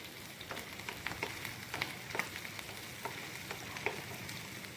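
Garlic, ginger and green chilli sizzle and crackle in hot oil in a pan, giving a steady, fairly quiet frying hiss with soft stirring scrapes at irregular intervals and no talk.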